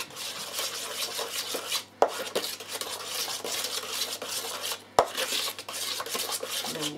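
Paint being stirred into grout for a reptile terrarium background, a steady scraping, rubbing mix with a few sharper knocks against the container, close and fairly quiet throughout.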